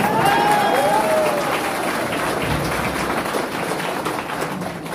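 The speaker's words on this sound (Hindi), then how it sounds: "ये जो ताली बजा रहे" Sustained, fairly loud audience applause at an RCM business seminar fills the whole stretch as a dense, steady wash of many clapping hands, with a few faint tonal squeals over the top.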